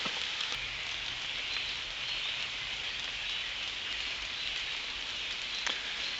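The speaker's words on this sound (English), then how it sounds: "Well, the rain's coming down pretty good." Rain falling steadily in autumn woods, a dense continuous hiss of drops on leaves and ground, even and moderately loud with no voices.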